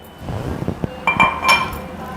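Two tomatoes are dropped into a mixer jar while making roadside chutney, landing as a few quick clinks and knocks against the jar, close and brief.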